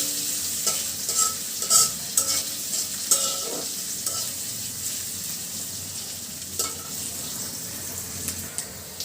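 Whole cumin tempering in hot oil, stirred in a pan, gives a continuous sizzle broken by repeated spatula scrapes and clatters, moderately close with no talk.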